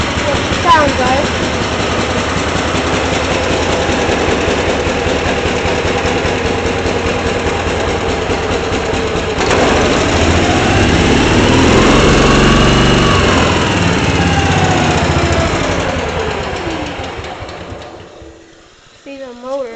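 A 1971 Case 220 off-road lawn tractor with a hydrostatic drive runs steadily up close, its small engine droning loud and even with a rising and falling pitch midway, then dropping away near the end.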